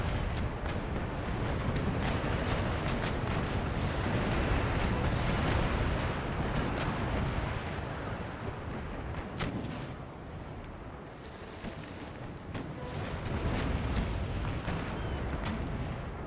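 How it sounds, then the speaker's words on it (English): Continuous heavy cannon fire from artillery ships in a naval battle in Empire: Total War, with dense, overlapping booms and bursts rolling on without a break and no voices over it. "All artillery ships, focus your fire on the Victoria, first-rate ship of the line."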